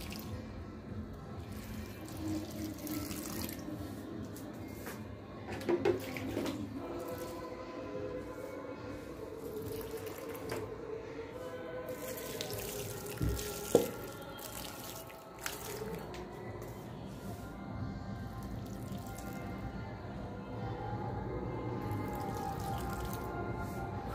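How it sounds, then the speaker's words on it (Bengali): Water runs and drips while potted plants are watered, a soft continuous trickle with occasional splashes and clinks from a tap and sink, faint and close, with no clear talking. "গাছে সব জল দিয়ে দিলাম।"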